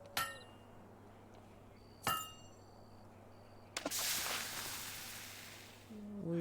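Metallic hammer strikes ring on a blade at a forge in Fable II: two bright, clanging hits a couple of seconds apart, each with a short ringing tail, followed by a hissing burst.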